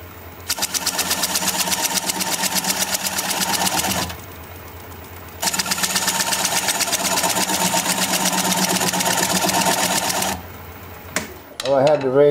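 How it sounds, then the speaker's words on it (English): On a wood lathe, a tool cuts a larger tenon into a bowl blank in two long, loud passes: a dense chattering whir with a steady motor hum underneath, separated by a short, quieter pause. "So now I will cut that larger tenon."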